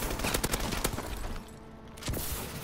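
Pistol gunfire in the game Advanced Warfare, a rapid burst of sharp shots in the first second and a half amid dense game noise, then a short lull before more activity.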